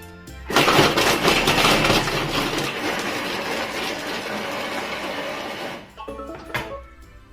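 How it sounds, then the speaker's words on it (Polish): A Thermomix food processor whirs loudly for about five seconds of steady, dense chopping at speed 5, then cuts off, followed by a few softer clunks. "I całość rozdrabniamy 5 sekund na obrotach 5."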